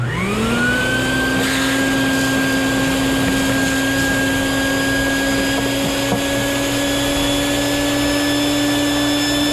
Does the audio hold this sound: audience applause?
no